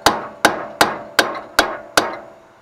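A hammer strikes a small chisel six times at an even pace, each hit a sharp, close metallic crack with a short ring, tapping the chisel in to wedge it between steering parts on a C10 pickup front suspension.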